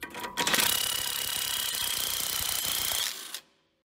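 A ratchet wrench rapidly clicks as it turns the 17 mm nut on the stabilizer bar link of a BMW E46 328i turbo. The close, dense ratcheting runs steadily for about three seconds and then stops abruptly.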